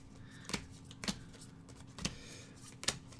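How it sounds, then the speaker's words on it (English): Playing cards being shuffled for a solo tabletop game, heard as four separate soft riffling bursts spaced over a few seconds against a quiet background. "make sure that these cards are evenly shuffled"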